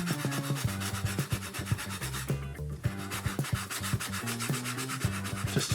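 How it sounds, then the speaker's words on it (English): Steady back-and-forth rubbing of a fine 180 grit foam sanding block across a toy during an ERTL model restoration, close and rhythmic, with a brief pause midway. "Now I'm gonna start with a really fine 180 grit foam sanding block, just to take off kind of the lumps."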